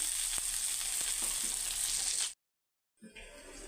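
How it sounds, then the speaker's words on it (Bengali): Rui fish curry base with potatoes and peas frying in oil over heat, a bright continuous sizzle that cuts out abruptly, then resumes faintly. "আরও পাঁচ মিনিট ভেজে নেব তেলগুলি তেলগুলো যেন উঠে"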